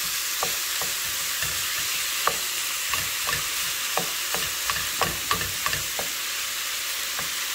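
Meat browning in a hot pan as part of a meal prep, with a steady, close frying sizzle broken by a string of light taps and scrapes as it is stirred, with no talking.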